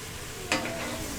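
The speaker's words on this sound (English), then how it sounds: "Look at that boiling up and bubbling." Steady hissing, bubbling noise of water boiling hard in a pan, close by, with one brief sharp clatter midway.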